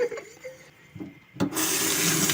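Half-litre glass jars are rubbed with baking soda, then rinsed under running water from a kitchen tap, with faint scrubbing squeaks giving way to a steady, close gush of water.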